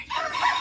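A rooster crows in a sustained, strained call with no talking, sounding moderately close.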